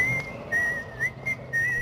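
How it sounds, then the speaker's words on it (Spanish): A clear whistled film melody, the tune Quentin Tarantino revived in 2003, carries in short, steady sustained notes with slight bends over a faint background. "en 2003 Quentin Tarantino rescató este inolvidable silbidito"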